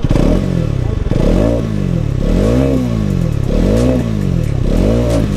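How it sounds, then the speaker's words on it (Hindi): A Hero Karizma XMR 210 motorcycle's exhaust rumbles loud and close, with repeated rhythmic revs rising and falling over a steady idle, no voices. "एक बार इसका एग्जॉस्ट साउंड सुनो।"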